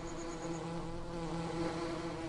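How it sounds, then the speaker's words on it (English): Steady droning buzz of bees swarming around a beehive on a farm in the video game Farming Simulator 17 (Altenstein map), continuous and moderately loud throughout with no talking. "He's keeping track of every single bee that leaves the hive."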